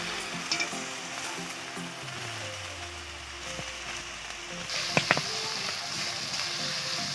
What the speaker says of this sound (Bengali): এবার টমেটো কুচিটা দিয়ে দিলাম। এটাকে ভাজতে থাকবো যতক্ষণ আদা রসুনের গন্ধটা না যায়।